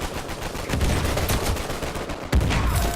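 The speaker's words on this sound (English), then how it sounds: "so that was a grenade throw that actually worked" An Uncharted 4 multiplayer firefight crackles with rapid gunfire, then a heavy grenade blast thumps in near the end amid the shooting.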